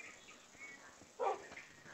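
A dog sound from the Cartoon Dog creature in a Minecraft horror map: a low bark-like burst rises briefly over a faint, hissy game background.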